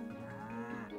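A single cow in the farming game Staxel gives one short, close, clear moo with a steady pitch.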